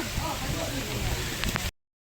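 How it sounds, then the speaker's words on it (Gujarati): Rain falling during Ashadhi Bij celebrations, a steady broadband patter held close and fairly loud for under two seconds before cutting off. "ભાઈ તો ગાઈસ વરસાદ આવી ગયો છે આજે અષાઢી બીજનો."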